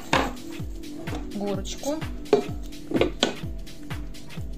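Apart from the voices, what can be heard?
chopping food with a knife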